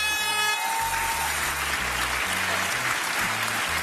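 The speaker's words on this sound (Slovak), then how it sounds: "Blahoželáme, veľký potlesk." Studio audience at the Slovak dance show Let's Dance giving big applause, dense continuous clapping with a brief horn-like tone near the start, loud throughout and no talk.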